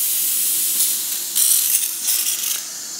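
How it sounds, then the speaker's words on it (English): An espresso machine's steam wand blows a loud, steady dry hiss that swells and surges in spurts, running continuously close to the mic with no talking. "it's pretty dry once it gets going. Pretty dry in the steam."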